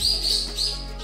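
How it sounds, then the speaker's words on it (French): Birds chirping in the Yakushima forest on a Japanese island: high, bright tweets repeating in quick bursts over a steady low ambient hum, moderately close and with no talk. "Et des oiseaux."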